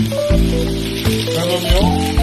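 Beef for pho searing in a pan, a close, loud sizzle with several sharp clanks and pops from the pan and utensil over a short span.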